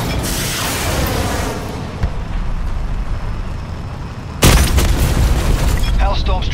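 Hellstorm strike explosions in Call of Duty Black Ops 4, a booming roar that builds, then a sudden louder rumbling blast near the end, with talk playing over the top.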